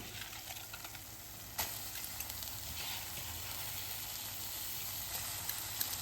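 Rice being gently stirred into a masala and onion base in a pot for a simple one-pot pulao, a soft steady sizzle and light scraping under a constant hiss, with a brief louder scrape near the start.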